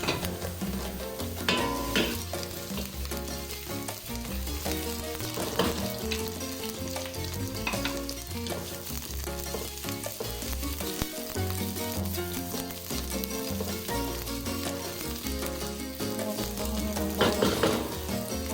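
Sliced onions and garlic sizzle in a pan for pancit bihon, a steady crackling fry that runs throughout beneath louder rhythmic background music with a thumping bass line, and no voices.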